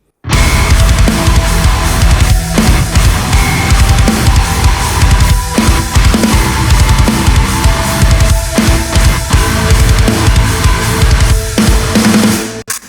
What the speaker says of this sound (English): the guitar tone that I originally used sounds like this in the mix.